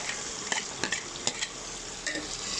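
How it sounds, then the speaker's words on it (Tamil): Chopped small onions and garlic sautéing in a pan for bitter gourd curry, giving a steady sizzle broken by several sharp scrapes of a spoon stirring against the pan, close up with no talking. "இப்போ வெங்காயம் வதங்கிடுச்சு."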